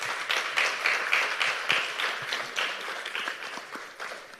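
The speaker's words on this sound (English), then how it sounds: "I'd like us to just give a hand of applause to our presenters" A conference audience gives the presenters a round of applause, a moderate, steady patter of many hands clapping that slowly tapers off.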